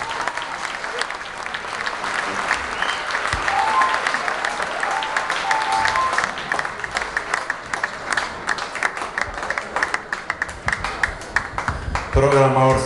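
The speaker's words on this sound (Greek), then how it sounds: "Αποχώρηση Αρλέτα, χειροκρότημα." Audience applause as Arleta leaves the stage at a live show, a sustained dense clapping from a crowd that thins toward the end, with some voices mixed in.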